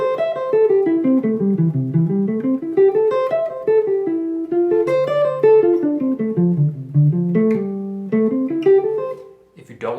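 A jazz guitar running arpeggios straight up and down in a plain, mechanical practice pattern, notes picked evenly in a continuous stream with a few short pauses, clear and close.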